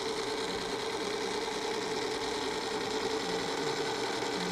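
A sewing machine runs a quarter-inch seam through a quilt, giving a steady, continuous mechanical whir with a fast rhythmic needle clatter close by and no pauses.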